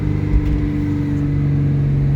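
A 1999 Mustang Cobra engine runs at held, steady RPM, a loud, even drone with a constant low hum and no change in pitch, heard close and with no talk.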